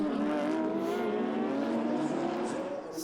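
Race cars, an Audi and a Porsche among them, accelerate away from the start of a 25-hour Fun Cup endurance race, a continuous loud engine roar with no break.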